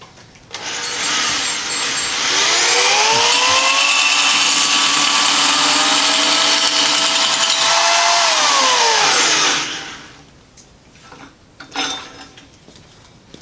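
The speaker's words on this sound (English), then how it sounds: "I'm not sure why you'd notch carbon fiber, but it actually notches beautifully." A tube notcher cuts into a thin carbon fiber tube about 1.25 inches across, a loud sustained whining grind that ramps up, holds for about seven seconds and winds down, followed by faint clatter.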